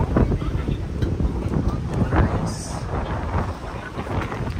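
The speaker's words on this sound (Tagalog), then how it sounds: "Sobrang lakas ng hangin dito" Strong wind buffets the microphone with heavy, rumbling gusts at a seaside restaurant in Bohol, Philippines, while people talk faintly underneath.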